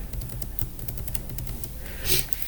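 Keys tapped on a computer keyboard while working in Vim on an Ubuntu terminal, a quick run of light, close clicks in an uneven rhythm, ending with a slightly louder clatter.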